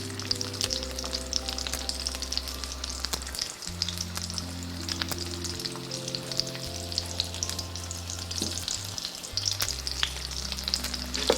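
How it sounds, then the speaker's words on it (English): Leaves crisping in butter in a frying pan while potato gnocchi are prepared, giving a steady, close, dense sizzle and crackle with a few brief clinks, continuous throughout and with no talking. "I will let them to crisp in the butter"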